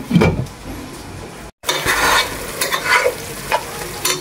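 Taro stolons stir-fry in hot oil with a busy sizzle and repeated scraping stir strokes, interrupted by a brief silent gap partway through.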